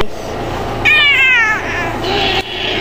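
A cat gives one close, drawn-out meow midway through, over a faint rustling background, with no talking.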